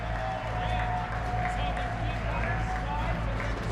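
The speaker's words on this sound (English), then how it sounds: "A round of applause" Guests at a wedding reception clap and cheer as the couple enters, a dense continuous wash of applause over steady music and crowd noise throughout.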